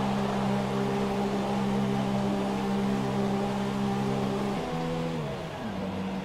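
A Formula One car in the F1 2017 racing game drones steadily on its pit limiter while entering the pits, holding a flat buzzing engine tone that shifts pitch near the end.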